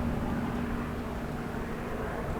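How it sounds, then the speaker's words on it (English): An airplane passes overhead in Alaska, a steady droning roar with a low engine hum, distant and constant for the whole stretch. "Got a truck driving by, plane flying by."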